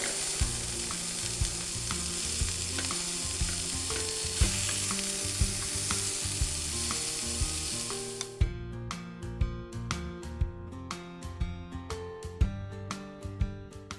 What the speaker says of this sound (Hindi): कबाब भी तल लिए हैं।